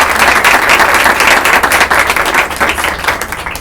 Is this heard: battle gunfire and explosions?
no